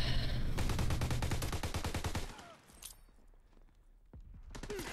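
Rapid automatic gunfire from a World War II shooter, Call of Duty WWII, rattling in a dense close burst for about two seconds, then scattered single shots and thuds over quieter game ambience.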